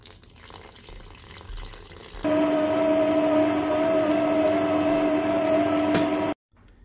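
Water pours steadily from a tap into a bowl of homemade pizza dough, a continuous hissing splash with a ringing tone that stops abruptly near the end, after a quieter stretch of room noise.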